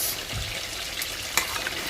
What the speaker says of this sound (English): So now it's at the frying up stage.